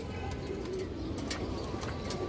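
Pigeons of old bloodlines cooing in a loft, soft low coos repeating under steady broadband background noise, with a few brief higher chirps mixed in.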